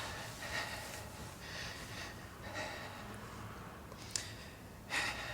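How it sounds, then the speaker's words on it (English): Patient taking deep breaths during a medical check, soft repeated gasping inhales and exhales in a quiet room, faint and close, with a couple of sharper breath bursts near the end. "Just take some deep breaths for me."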